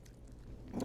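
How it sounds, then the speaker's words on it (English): Faint chewing of crispy chicken wings grilled on a Traeger pellet grill, with a quick crunch near the end, close and quiet, with no talking. "let you guys hear the actual sound of me chewing"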